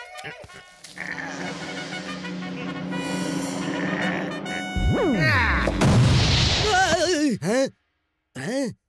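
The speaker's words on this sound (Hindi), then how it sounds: "धमाके की आवाज" A sudden loud blast from a stepped-on landmine in an action film erupts partway through, cutting through busy background sound, followed by warbling, swooping tones before everything drops to silence.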